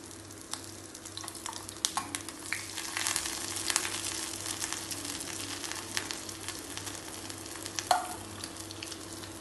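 Bread katori cups frying in ghee in a pan for bread katori chaat, a steady crackling sizzle with scattered sharp pops and a low background hum, no voices.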